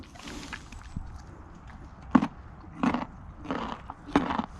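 A horse bites down on a treat, giving several close, crisp crunches spaced about a second apart with quiet pauses in between.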